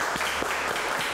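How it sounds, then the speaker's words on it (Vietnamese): Studio audience applause at a Vietnamese televised martial-arts and music competition show, a dense, steady patter of many hands clapping at close range throughout. "Nếu mà mọi người đồng ý với anh cùng anh vượt qua vòng thi lần này thì mọi người vỗ tay nha"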